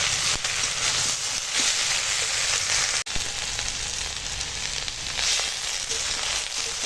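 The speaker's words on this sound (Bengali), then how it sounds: "দেখো এখন আমার আনাজটা বেশ ভাজা হয়ে গেছে" Pumpkin greens and vegetables fry in a pan with a loud, even sizzling hiss that holds steady throughout, broken by one brief sharp click, and nobody speaks.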